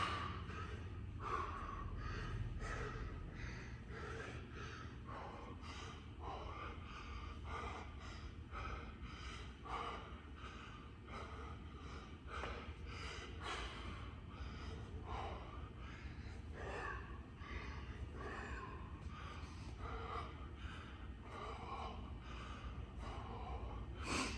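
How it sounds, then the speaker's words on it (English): Heavy rhythmic breathing during a follow-along workout, repeated sharp inhales and exhales through the nose and mouth, close and steady over a low background hum. "Still breathing."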